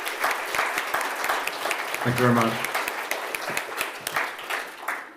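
An audience at a sustainable aviation fuel supply chain conference applauds a speaker, a dense, steady clapping close by that lasts throughout while a voice briefly speaks over it.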